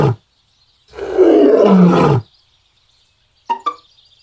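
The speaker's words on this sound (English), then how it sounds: "He roared at the pond and startled Mr. Frog, who woke up from his nap." A loud, growling roar sound effect for a children's bedtime story about a rat who roars, one sustained blast standing alone, followed by a couple of short plopping sounds.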